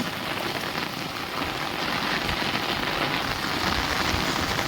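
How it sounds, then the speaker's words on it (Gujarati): Heavy rain pours steadily onto surfaces, a dense continuous hiss with close splashing drops and no voices. "અતિશય વરસાદ છે બરાબર"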